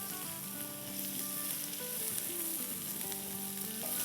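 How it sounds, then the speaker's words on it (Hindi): Vegetables sauté in a pot for rathan pulao, giving off a continuous crackling sizzle at a steady moderate level with faint tonal clatter underneath and no talking. "ये हमारी सॉटे हो रही है वेजिटेबल।"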